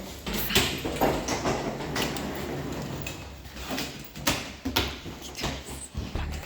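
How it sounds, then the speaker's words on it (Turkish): A door being opened before dawn at 5 a.m. at the start of a trip to Paris, with a series of close mechanical clacks and thumps from the latch and frame over steady background noise. "Kapıyı da ben açıyorum."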